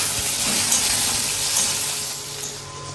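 Tomatoes dropped into frying onions in a pan, a close, steady sizzle with a soft wet hiss that fades slightly toward the end.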